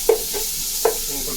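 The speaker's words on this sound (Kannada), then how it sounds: "ಸ್ವಲ್ಪ ಉಪ್ಪು ಹಾಕಿದ್ರೆ ಸ್ವಲ್ಪ ಓನಿಯನ್ ಬೇಗ ಫ್ರೈ ಆಗುತ್ತೆ." Onions with salt frying in a pan, with a low sizzle under two brief scraping stirs about three quarters of a second apart.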